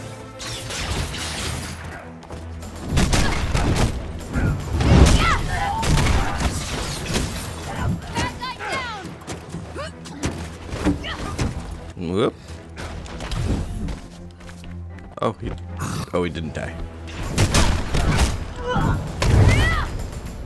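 Enemy gunfire in the Avengers video game, shooting from above: repeated sharp cracks and heavy thuds scattered through chaotic combat noise, with a player talking over the action.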